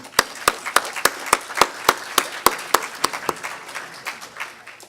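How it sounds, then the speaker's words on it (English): An audience at a SkyDogCon 2013 costume contest claps steadily for an entrant's costume, with sharp, evenly spaced claps that sound like a modest group keeping a loose rhythm for about five seconds. "let's hear a round of applause for Branson's costume"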